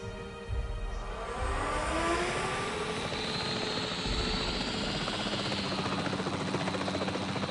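A capture team helicopter in the Jurassic Park Evolution 3 video game roars steadily, with loud, continuous rotor chop and engine whine that swells at the start and then holds close and constant.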